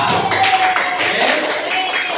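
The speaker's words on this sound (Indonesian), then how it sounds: "Tepuk tangan untuk kelompok" Fifth-grade schoolchildren in an elementary school classroom clap together for a group, a dense, steady round of applause lasting a couple of seconds with voices mixed in.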